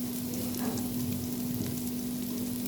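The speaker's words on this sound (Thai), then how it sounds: "เราก็ต้องผัดให้มันหอมเปิดไฟหน่อย" Curry paste for a pork-head chili curry sizzles steadily as it is stir-fried in a pot over raised heat. The hiss is constant and close, with a low hum underneath and no talking.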